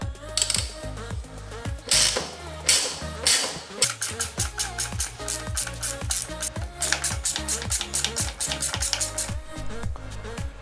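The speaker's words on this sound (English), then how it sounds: "Next, we need to remove the calipers by taking out these 2 T40 bolts." Two T40 Torx bolts on the rear brake caliper of a BMW R1200GS motorcycle are backed out with a ratchet, giving a steady run of close, rapid clicking and mechanical ticking with no talk.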